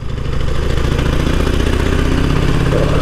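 A motorcycle engine idles close by at very low revs, a low, throbbing Harley-like chug that stays steady and loud throughout.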